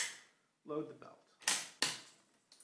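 Ammunition belt loaded into a machine gun, a metallic rattle followed by two sharp clacks of the feed cover and bolt, then a lighter click, close and clear with nothing else around.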